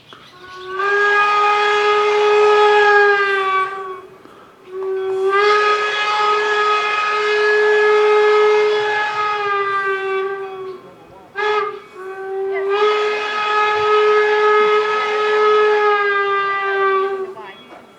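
A loud locomotive horn sounds close by as a crossing signal: two long blasts, a brief short toot, then another long blast, all strong and sustained.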